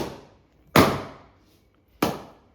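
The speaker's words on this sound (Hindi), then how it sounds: "ये विदाउट पॉल्यूशन वाले पटाखे हैं जो आप लोग भी फोड़ सकते हो" Two sharp pops from pollution-free firecrackers being set off, about a second apart, each a loud close crack with a short fading tail, with no other sound around them.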